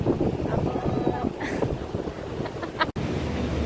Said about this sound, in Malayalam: ഇവിടെ നല്ല കാറ്റുണ്ട് കേട്ടോ